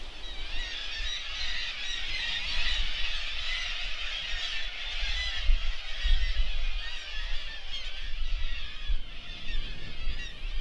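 A dense, noisy din of black-legged kittiwakes calling at once, continuous harsh squealing cries from a large cliff colony, steady and loud throughout.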